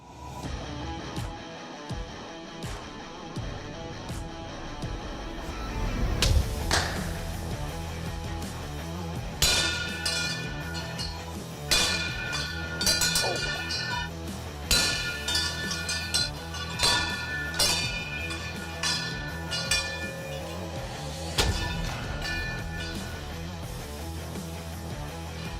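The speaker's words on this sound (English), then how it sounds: "Welcome to my dynamic test. The steel wind chime and fish slice." A forged steel wind chime rings out as it is struck and tested, with sharp metallic clangs and pings at irregular intervals over a longer stretch and a lingering resonant hum beneath.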